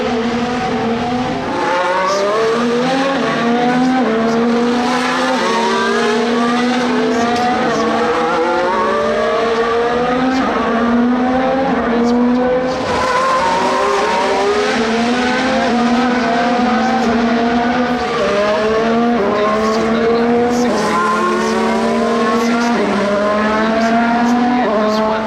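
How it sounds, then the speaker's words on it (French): Racing cars pass repeatedly along the Monaco Grand Prix street circuit, engines rising and falling in pitch as each one sweeps by in a steady loud stream of passes. "Vous entendez depuis tout à l'heure le bruit des voitures, elles sont en train de passer là"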